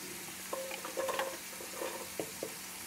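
White onions fry in a pot as the start of a duck gumbo, a low steady sizzle broken by a few soft stirring scrapes and clicks, quiet and close, with no talk.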